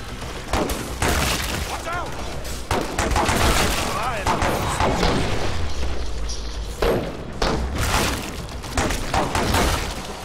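Repeated hip-fire gunshots in the shooter Killing Floor 2 crack loudly in quick bursts over the din of combat, with a voice talking throughout.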